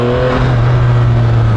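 A 2024 Yamaha MT-09 with its 890cc inline-three engine, a loud, steady, droning engine note with a strong low hum, heard close and continuous throughout as the motorcycle is ridden in sports mode.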